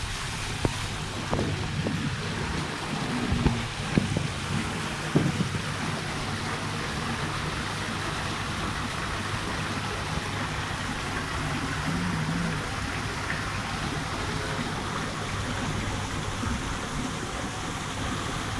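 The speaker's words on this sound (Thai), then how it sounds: "ไม่มีน้ำตก เปิดน้ำตกให้ดูเลยครับ" Artificial waterfall at a koi fish pond pours in a steady, broadband rushing wash that holds unchanged throughout, close and constant, with a few faint knocks early on.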